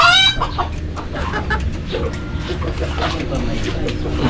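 Bantam hen and her chicks clucking and peeping close by in an overgrown outdoor spot, with faint chirps and a busy ambient background while people talk nearby.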